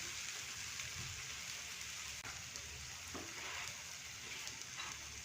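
A paratha roasts with oil on a pan, giving a soft, continuous sizzle with faint crackles, quiet and close with no talking.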